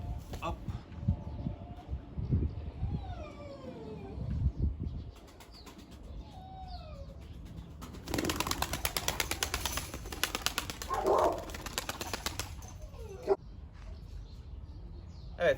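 An ala pigeon is released and its wings flap in short bursts as it takes off and flies, with bird calls and someone talking over it.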